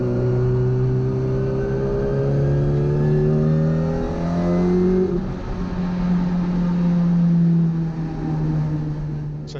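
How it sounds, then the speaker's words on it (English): A Hillman Imp in race spec revs hard at a circuit, its engine note climbing and shifting through gears, loud and close, then holding a steady drone. "And this was a lovely little Hillman Imp in race spec"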